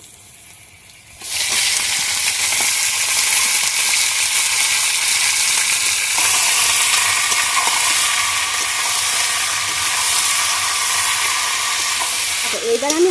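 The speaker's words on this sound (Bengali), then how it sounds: "এখন মাংস টাংসগুলো পেঁয়াজের মধ্যে দিয়ে দিচ্ছি" Chicken pieces dropped into frying onions in a pan: a sudden loud burst of sizzling that becomes a steady, dense hiss and carries on close by, with no talk.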